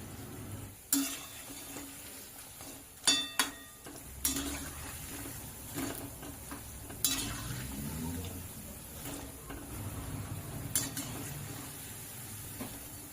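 Bondas deep-frying in oil over a medium flame give a steady, low crackling bubble, with a few sharp utensil clinks and taps against the pan breaking through at intervals.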